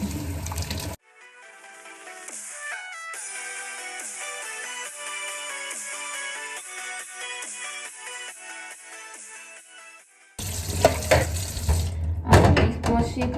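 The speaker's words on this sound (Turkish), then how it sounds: "Tencerenin kapağını kullanmamışım ama yine de yıkayayım." Water runs from a kitchen tap into the sink as a pot lid is washed, a steady splashing stream with light clinks of metal, then louder gushing and clatter near the end.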